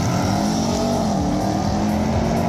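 An Audi RS6 drag racing on an asphalt strip, its engine a steady loud roar with rising, shifting harmonics throughout, close and continuous with no talk.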